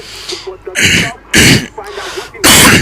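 A man with a bad cough sneezes or coughs in three loud, close bursts spaced about a second apart, with breathing between them.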